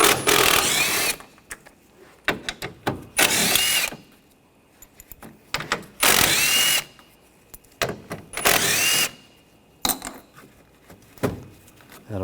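A 10mm socket on a power tool spins out bolts from the intercooler area of a 2013-2022 Buick Encore 1.4L, with repeated loud close whirring bursts separated by short pauses.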